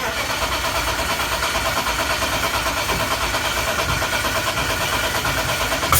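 BMW M52 engine in an E36 cranking over, a loud steady churning mechanical drone that holds evenly for several seconds close by, without a clear catch.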